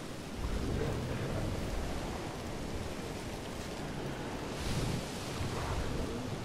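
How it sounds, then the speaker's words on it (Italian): Stormy weather in the dinosaur park game Jurassic World Evolution, a steady broadband roar of wind and rain with low rumbling swells, loudest near the start and again around the five-second mark, with no voices. "Non vi arrabbiate per la tempesta, eh?"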